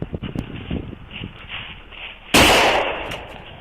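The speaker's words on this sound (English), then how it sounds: "Shots fired!" A single sharp, loud gunshot bursts out partway through a police dashcam gunfight in Arkansas, following muffled shuffling and movement noises, with a lingering decay afterward.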